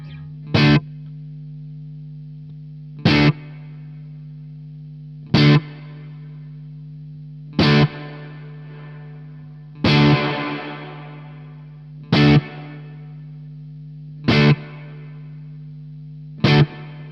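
An electric guitar played through a Victory VC35 The Copper amp head with digital reverb: eight evenly spaced strummed chords, each ringing out into a soft, breathy tail over a steady hum, loud and close.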